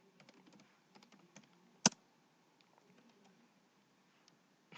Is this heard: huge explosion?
no